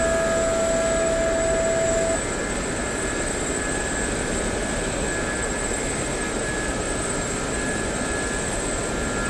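Gazelle helicopter flying in the combat flight simulator DCS World, a steady continuous rotor and turbine drone with a high whine, holding evenly throughout with no speech.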